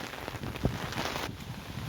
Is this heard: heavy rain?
yes